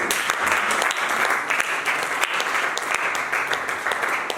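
A church congregation applauds during a sermon, loud sustained clapping from many hands that stays dense and even throughout, with no speech heard over it.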